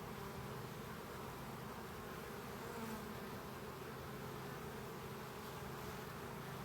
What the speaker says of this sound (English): there's still a lot of bees inside this box